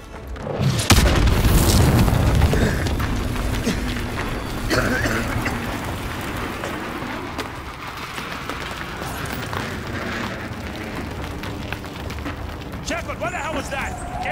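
A heavy naval bombardment explosion in Modern Warfare 2 Remastered booms loudly near the start, followed by rumbling debris and battle noise that continues beneath voices speaking.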